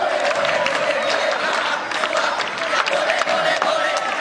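A crowd performs the rhythmic Pramuka scout clap at a Khutbatul Iftitah gathering marking Indonesia's 70th Independence Day, with regularly spaced claps amid chanting voices and general crowd noise.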